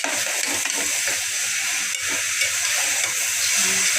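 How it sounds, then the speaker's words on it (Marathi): Grated carrots and sugar sautéing in a pan for carrot halwa produce a loud, continuous steamy hiss and sizzle with faint stirring scrapes, close by and without speech. "साखरेला आणि गाजराला परतून घेऊया."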